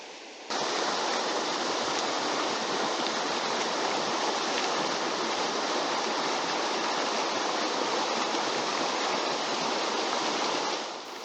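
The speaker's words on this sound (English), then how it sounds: "the moist area leading to the waterfall" Water pours down a waterfall in a moist forested area near Lake Superior, a loud, steady broadband rushing roar that starts abruptly and continues unbroken, with no voices.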